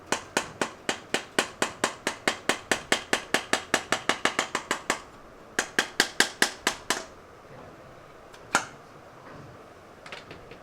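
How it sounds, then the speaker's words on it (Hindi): Screwdriver turning out the screws of an exhaust end cap on a Royal Enfield Bullet, giving a long run of rapid, evenly spaced sharp ratcheting clicks that pause, resume briefly, then trail off into a few isolated ticks. "खोल इसको पेचकस से, पेचकस का मुँह चेंज कर।"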